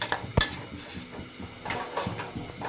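Food is stirred in a cooking pot, a spoon knocking and scraping against the metal in a few sharp clanks and softer rattles, close and without talk.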